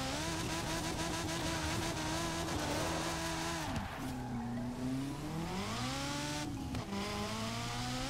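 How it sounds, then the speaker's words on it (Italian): Ferrari F40 drifting in the video game Forza Horizon 4, with a loud sustained engine whine that dips and rises through gear changes, overlaid by tire squeal, with no voices. "Quanto amo fare drifting con sta macchina qua."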